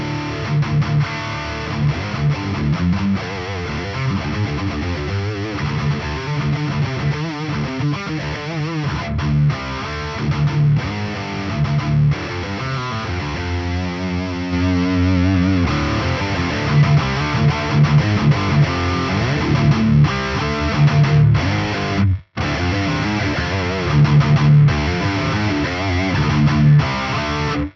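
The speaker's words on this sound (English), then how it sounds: "I can engage a distortion pedal." Electric guitar played through a Boss 200 series distortion pedal into a clean amplifier, a dense, saturated tone sustaining continuously with chords and riffs, loud and close, with one brief cut near the end.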